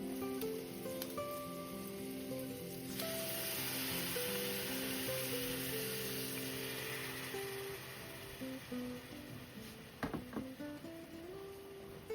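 A pot of potato, bacon and vegetable soup simmering on the stove gives a steady, soft sizzling and bubbling hiss that lasts throughout, with gentle instrumental music playing underneath.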